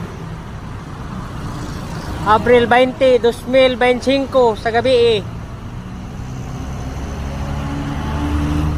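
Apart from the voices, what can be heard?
road traffic in the evening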